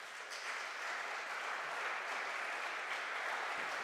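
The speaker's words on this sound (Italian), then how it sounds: "Vi accogliamo con un applauso." Steady, dense applause from a crowd at an award ceremony fills the whole stretch, even and sustained without pauses.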